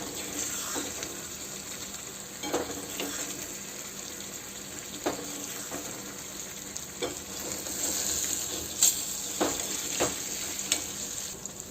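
Egg bhurji frying in oil in a pan gives a steady soft sizzle, with a few sharper scraping stirs and clinks of a spatula, no voices over it.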